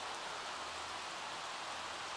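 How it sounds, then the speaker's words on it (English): Rain falls in a steady, even patter and hiss outdoors, soft and continuous across the whole stretch with no talking. "this rain sucks"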